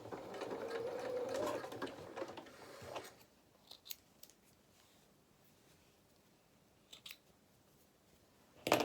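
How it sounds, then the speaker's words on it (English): A domestic sewing machine reverse stitches a seam on a fabric donkey toy body. A close burst of fast, even stitching lasts about three seconds, then a quiet stretch follows with a few small mechanical clicks. "let me just reverse stitch that"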